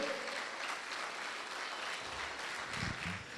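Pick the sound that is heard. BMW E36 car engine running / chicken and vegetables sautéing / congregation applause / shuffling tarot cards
congregation applause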